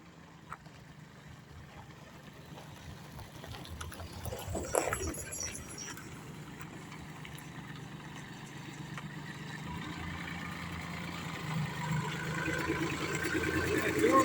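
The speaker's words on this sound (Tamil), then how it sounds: "ஒரு விவசாயி வந்துட்டுருக்கார் டிராக்டர் ஓட்டிக்கிட்டு மினி டிராக்டர்" A small mini tractor engine chugs steadily in the distance, growing slightly louder as it approaches, with brief voices partway through.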